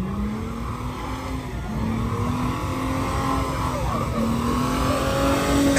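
A V6 Mustang engine at a car meet in Madera holds a steady, loud drone with a rising pitch that swells toward the end, with no voices over it.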